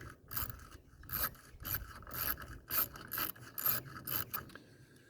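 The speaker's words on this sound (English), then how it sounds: "let's see if we can get the muffler off here and get a look at the piston" A hand ratchet loosens the muffler bolts on a Partner 421 chainsaw, giving a close, steady series of sharp clicking bursts with no talking.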